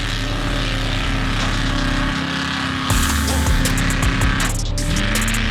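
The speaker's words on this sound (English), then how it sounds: "That motor sounds terrible." The rough-running motor of the Foss Hog tow test vehicle at a Mountain Havoc tie-down tow test roars loud and close, droning steadily with a harsher surge partway through.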